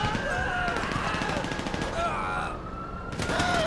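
Machine gun fire in a GTA 5 police patrol shootout rattles in continuous fast bursts, loud and close, with brief lulls and a voice talking over it.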